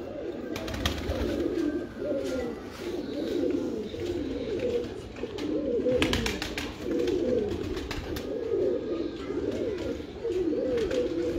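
Kamgar pigeons coo softly and repeatedly in a low, rolling rhythm, with occasional wing flutters and rustling nearby.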